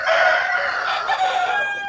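Romanian and Australorp chickens at a poultry farm raising birds for eggs and chicks: a rooster crows loudly and close by, with hens clucking around it, and no one talks.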